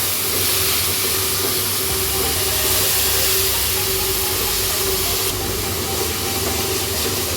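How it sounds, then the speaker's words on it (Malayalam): A paste of ginger, garlic and green chilli sizzles with shallots in a hot pan, giving off a loud, steady hiss and crackle that runs without a break for several seconds. "ചുവന്നുള്ളി വഴണ്ട ശേഷം നമ്മൾ ഇഞ്ചി വെളുത്തുള്ളി പച്ചമുളകിൻ്റെ പേസ്റ്റ് ഇട്ട് അത് ഒന്ന് വഴറ്റുക"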